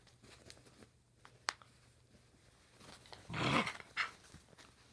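Puppies play fighting, with soft growls and scuffling, a sharp snap near the start and a louder burst of rough growling and rustle toward the end, all fairly quiet and close.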